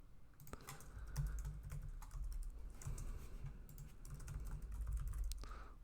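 Quick, steady typing on a computer keyboard while writing React code, with close, irregular clicks continuing throughout and no talking.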